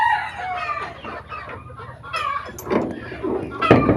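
Egg-laying hens cluck and squawk inside a coop, several birds calling close by in overlapping bursts, with a sharper, louder call near the end.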